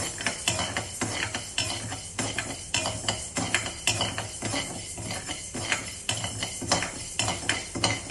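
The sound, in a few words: urad dal roasting and being stirred in a pan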